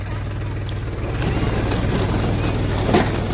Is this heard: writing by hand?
no